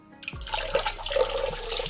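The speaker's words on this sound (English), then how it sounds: "this is where it's gonna start fizzing and bubbling, all right? Because there's baking soda in here" Baking soda reacting with apple cider vinegar, poured in for a dreadlock wash: a steady wet fizzing and bubbling with small liquid splashes, beginning abruptly and continuing close and fairly loud, with no talking.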